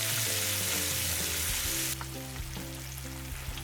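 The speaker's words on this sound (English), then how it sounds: "So I'm gonna let my fish cook for maybe like about 10-15 minutes" Fish frying in a pan of hot oil gives a loud, steady sizzle with constant crackling spatter. It eases slightly partway through but continues close-up and uninterrupted, with nobody speaking.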